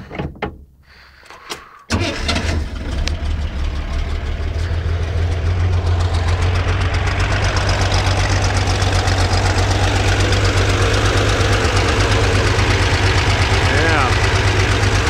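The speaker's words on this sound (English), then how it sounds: "Little ticking sound in a dead cylinder." A Chevrolet Corvair air-cooled flat-six with a dead cylinder cranks and catches after a brief quiet start, then settles into a steady, loud, rough idle with a faint ticking underneath.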